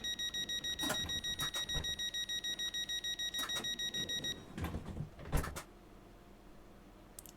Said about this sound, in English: And we'll start to lock the doors.